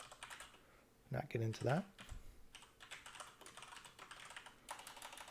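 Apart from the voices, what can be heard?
loud computer keyboard typing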